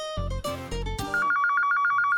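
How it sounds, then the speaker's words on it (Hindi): A telephone rings in a home, a fast, steady train of bright electronic ring pulses that follows a short burst of loud musical chords. "ये फोन भी ना हमेशा गलत टाइम पे बजता है"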